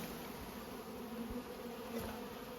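Honey bees buzz around an open hive at Nymboida, a steady close drone with a faint flyby or two, continuous and alone.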